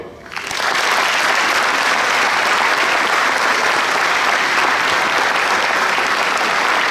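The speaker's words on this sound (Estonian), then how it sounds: "teeme neile selle korraldustoimkonnale suure aplausi" Loud, sustained applause from an audience at a hunters' association 70th anniversary gathering, many hands clapping steadily after a brief quiet start.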